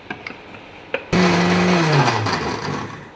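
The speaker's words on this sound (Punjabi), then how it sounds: "ਹੁਣ ਆਪਾਂ ਇਹਨੂੰ ਗ੍ਰੈਂਡ ਕਰਦੇ ਆ ਮਿਕਸੀ 'ਚ" After a few light clicks, a mixer grinder starts abruptly grinding coffee with a loud whirring roar that slightly drops in pitch as it keeps grinding.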